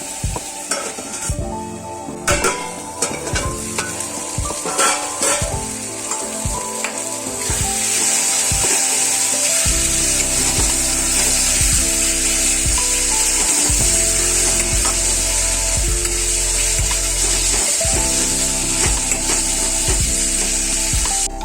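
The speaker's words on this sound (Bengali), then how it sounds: "অল্প জল দিয়ে 2 থেকে 3 মিনিটের জন্য ঢাকা দিয়ে মশলাটা ভালো করে কষতে দিতে" Spice masala for a Bengali fish bone curry (kanta chorchori) sizzles steadily in a pan, with repeated scraping and stirring strokes over the hiss that grows louder and denser partway through.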